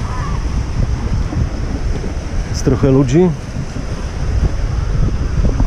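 Sea waves washing onto a beach at Mrzeżyno on the Polish coast, a steady loud roar of surf and gusting wind, with a person briefly speaking over it partway through.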